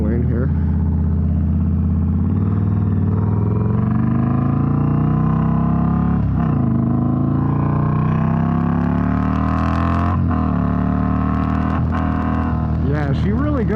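A motorcycle with strong acceleration but weak brakes is ridden on a multi-lane road, its engine droning steadily and close for the whole stretch, pitch rising and falling with shifts and throttle, wind rushing over it and a voice talking at moments.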